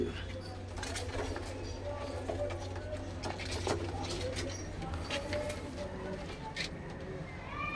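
A purebred Madrasi pigeon cooing in a sale setting, soft low coos close by, mixed with faint chirps and a steady background hum while someone talks over it.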